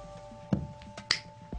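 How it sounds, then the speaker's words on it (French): A single crisp finger snap rings out close by during a card magic trick, preceded by a softer thud, with no talking over it. "d'un claquement de doigts"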